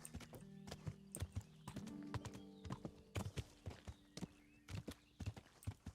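Rhythmic clip-clop of horse hooves at a walk in the video game Kingdom Come: Deliverance, close and distinct, with a brief whinny and a steady tonal hum beneath.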